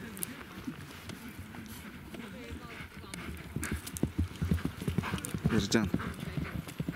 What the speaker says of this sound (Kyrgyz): Булар башка аттар, асыл.